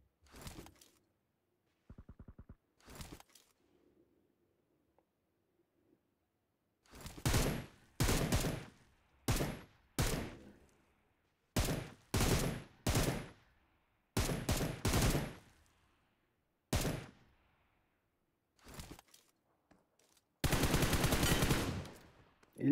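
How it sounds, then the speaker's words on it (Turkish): Automatic rifle fire in a PUBG Mobile firefight comes in loud, separate bursts of rapid shots with short silent gaps between them. It starts sparse and grows denser, ending with one long sustained burst. "Böyle çatışma uzun sürmeyecek."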